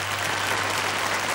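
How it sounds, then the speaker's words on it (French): Studio audience applauding on the French TV game show L'escargot, a steady, dense wash of clapping that stays even from start to finish with no voices over it. "Bravo, on applaudit Gérard Jugnot quand même."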